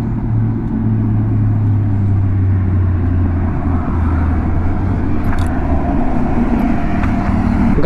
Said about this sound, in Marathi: घाटामध्ये बघा गाडी चालू आहे, भारी मजा येते.